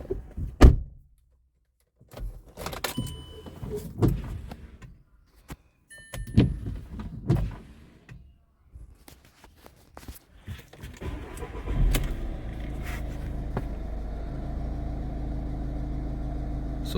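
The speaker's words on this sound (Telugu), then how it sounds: "సో వెహికల్ స్టార్ట్ చేద్దాం ఒకసారి." A 2015 Volkswagen Vento with a 1.5 litre diesel engine cranks and fires up after a few door and cabin clunks, then settles into a steady, close diesel idle.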